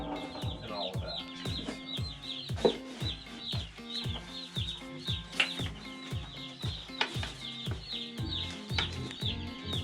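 Chicks cluck and peep around a feeder on a small farm, with steady chirping throughout and some regular knocking, fairly close and continuous.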